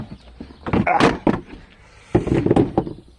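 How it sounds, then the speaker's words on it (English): The seat coming off a 2001 Suzuki King Quad 300 ATV: a run of close plastic thunks, clicks and rattles in two bursts with a short pause between, loud and alone. "let's take off the seat"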